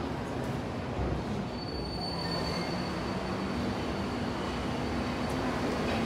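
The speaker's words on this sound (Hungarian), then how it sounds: "Visszafelé megy a metró," A metro train rumbles steadily on its track with thin, high wheel squeal cutting through, loud and continuous throughout.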